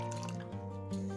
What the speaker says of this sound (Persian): داخل قابلمه بذارید، روش آب بریزید تا سطحش با آب پوشیده شه.